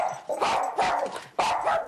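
A dog barks three times in quick succession, loud and close, each sharp bark followed by a brief pause; the dog is reactive and sets off at doorbells or passers-by in a home setting.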